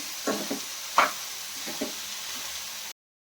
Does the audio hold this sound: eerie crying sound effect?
no